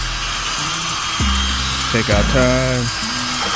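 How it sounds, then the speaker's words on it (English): Power drill spinning a brush attachment to scrub the fabric seats of a 2005 Ford F-150, a steady close whirring hum that shifts pitch as the brush bears down, with someone talking over it. "take my drill on my brush on my drill, and we'll start to agitate these things"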